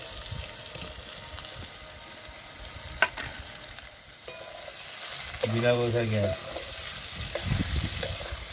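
Fried potatoes stirred into a sizzling chili, ginger and Kashmiri chili paste in a pan for a pabda fish curry, with steady frying crackle, sharp spatula knocks and a brief tonal squeak midway.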